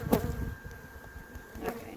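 Honeybees swarming around an orchard beehive give a faint, steady buzzing drone through the two seconds, with a brief voice near the start.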